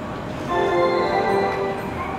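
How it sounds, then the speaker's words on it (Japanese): A Keihan 10000 series out-of-service electric train pulls out of a station platform, its rising tonal motor whine and rolling hum swelling briefly near the middle before easing slightly. "2番線の回送電車が発車します。"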